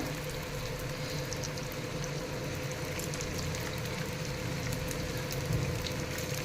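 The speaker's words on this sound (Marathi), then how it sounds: "त्याच्यामध्ये आपण हे एक एक पॅटी ठेवून दोन्ही बाजूनी छान अशी शॅलो फ्राय करून घेऊया" Patties shallow frying in oil in a pan for ragda pattice, a steady, dense sizzle and crackle that runs unbroken throughout, close and fairly loud.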